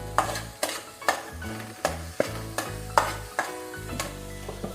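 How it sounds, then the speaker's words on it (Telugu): Tomato puree frying in oil over browned onions for a Nellore fish curry, with a steady sizzle broken by regular sharp stirring clacks every half second or so. "ఉల్లిపాయలు వేగిపోయి ఇప్పుడు టమాటా ప్యూరీ వేసుకుందాం."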